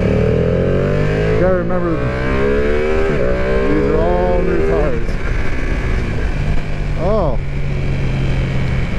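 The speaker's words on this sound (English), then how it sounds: "It's the V2, it's a twin, it's gotta be revved for it to really see it" A Ducati V2 Panigale twin-cylinder motorcycle revs repeatedly under riding conditions, its engine pitch sweeping up and down loudly and close, with someone talking over it.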